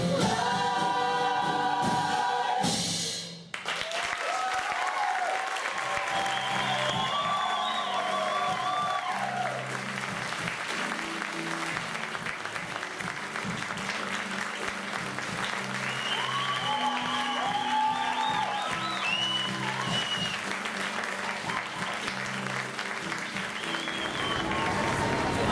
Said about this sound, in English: Nice round of applause for everybody.